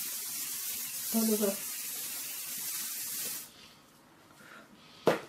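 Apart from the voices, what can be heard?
spraying VO5 Tame and Shine hair spray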